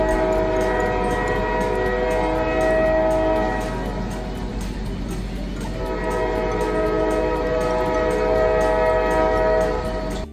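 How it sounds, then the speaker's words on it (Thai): A train passes close by, its horn blaring in a sustained, steady tone over a deep rolling rumble, loud and continuous throughout with no talking. "เราไปฟังอีกรถหนึ่งแล้วกันนะครับเป็นรถไฟครับ"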